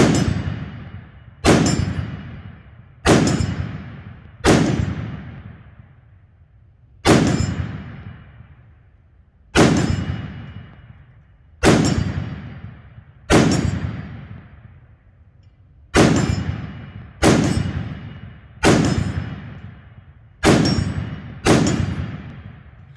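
A Ruger SFAR rifle chambered in .308/7.62x51 fires about a dozen loud, sharp shots, each ringing off a swinging steel target with a decaying metallic clang, spaced irregularly a second or two apart.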